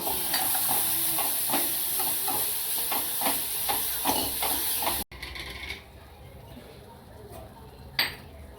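Greens tipped into a hot pan for a Marathi mixed hativ bhaji, giving a steady loud sizzle with rhythmic stirring scrapes for about five seconds, then a quieter fading hiss and one sharp clink near the end.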